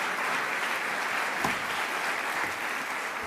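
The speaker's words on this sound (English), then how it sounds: "Please don't clap for me." An audience claps for the U.S. Secretary of Defense at his farewell address, a dense, even wash of applause held at steady loudness through the whole stretch, with no clear voices over it.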